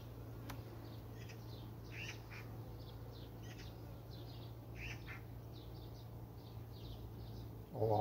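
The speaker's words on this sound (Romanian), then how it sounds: "Mi se pare că plânge o matcă." A honeybee queen pipes inside a hive during swarming, with a series of short, faint tonal toots repeating over the low, steady hum of the colony.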